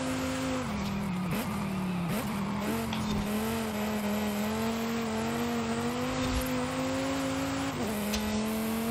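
A car engine races in Forza Horizon 5, a loud, sustained droning growl that rises and falls with gear changes, with brief tire squeals mixed in and no talk over it.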